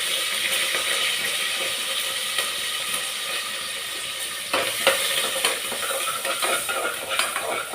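Ginger, green chilli and curry leaves fry in a pan as they are stirred, a continuous close sizzle with scraping utensil strokes, growing livelier about halfway through.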